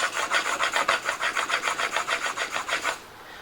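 A plane blade sharpened with a radius, rubbed back and forth on a 1000-grit sharpening stone in about ten quick, even, rasping strokes at close range, then stopping.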